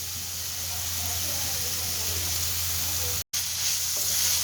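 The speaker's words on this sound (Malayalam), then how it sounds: "നമുക്ക് ഇതിൻ്റെ അകത്തേക്ക് നമ്മൾ അരിഞ്ഞു വെച്ച ഉള്ളി കൂടി ഇട്ട് കൊടുക്കുന്നുണ്ട്" Chopped onions going into ginger garlic paste in hot oil, sautéing with a close, bright sizzle and occasional stirring scrapes, briefly cut out for a moment before the frying resumes.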